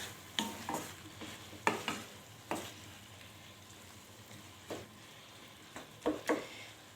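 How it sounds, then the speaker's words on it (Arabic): Intermittent scraping and stirring of a seafood mixture in a pan, soft clattering strokes in short bursts with gentle sizzle underneath and quiet pauses between. "غادي نحاولوا نخلطوا كاع هاد الخليط اللي عندنا"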